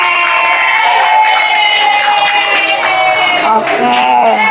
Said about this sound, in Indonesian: Tepuk tangan dulu buat yang dapat permen